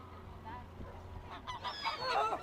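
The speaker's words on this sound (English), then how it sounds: "Geese are being fed." Geese honk at Marine Lake in Southport, Merseyside, as they are fed, rising from a quiet, rumbling start into several moderately loud calls near the end, with faint voices in the background.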